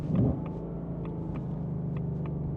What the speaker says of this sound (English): They are satisfying downshifts.